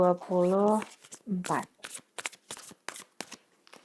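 Tarot cards are shuffled in a series of quick, crisp riffling bursts, close and fairly quiet, following a brief voice at the start.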